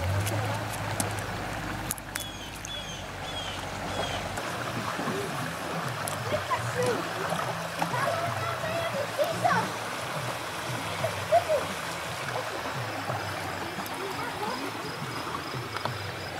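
A river on Dokis First Nation flows steadily past a backyard, giving a continuous close rushing wash of water with insects chirping faintly throughout.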